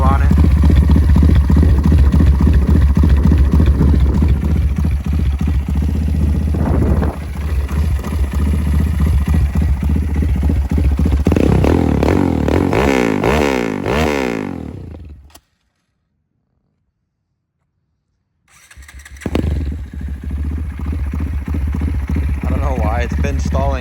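A 205cc Honda Grom motorcycle engine that stalls and has been tuned to shoot flames idles loudly and roughly up close, cuts out into silence for a few seconds, then starts running again.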